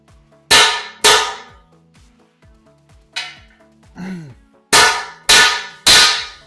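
Several sharp metallic clangs ring out one at a time as a steering stem bearing on a 2004 Honda CR250 is pressed until bottoming out, loud and close, with short quiet gaps between them.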